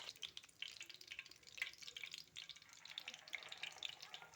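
Pieces of an egg-and-potato snack laid into hot oil in a pan crackle and sputter faintly, a soft, uneven frying patter running the whole time.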